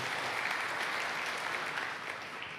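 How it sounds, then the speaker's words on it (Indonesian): A church congregation claps during a sermon, a fairly faint, even wash of many hands applauding continuously for a few seconds with no voices on top. "Kalau mau tepuk tangan silakan mau tepuk tangan"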